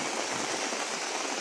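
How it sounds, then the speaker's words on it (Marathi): Heavy monsoon rain falls on a flooded market street in Talavade, a steady, dense hiss of rainfall that stays even and unbroken throughout. "अजूनही मुसळधार पाऊस सुरू आहे, जोरदार पाऊस सुरू आहे"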